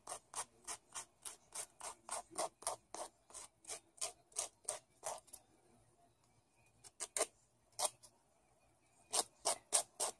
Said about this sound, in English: And then you will file off your excess.